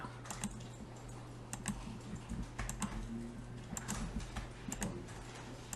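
Steady typing on a computer keyboard while entering AutoCAD drafting commands: quick, close, crisp key clicks in uneven bursts with brief pauses, over a faint constant hum and no talking.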